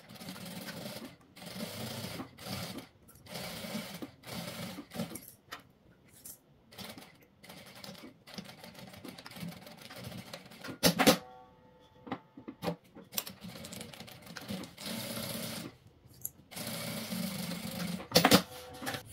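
Sewing machine stitching a tweed mini bag: steady runs of close, rapid mechanical stitching broken by short pauses and a few louder clicks, with no talking.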